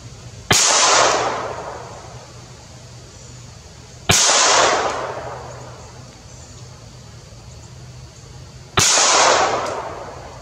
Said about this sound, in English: I know I'm shooting a little high